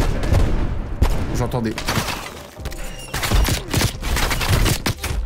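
Rapid gunfire from the Fara-83 rifle in Black Ops Cold War, dense bursts of game shots and effects running throughout under someone talking in French.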